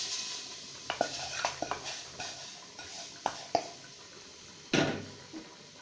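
Semolina and sugar are stirred into pumpkin halwa in a pan, making soft scraping and occasional clinks of a spoon against metal over a faint sizzle. One louder scrape comes near the end, and no one speaks.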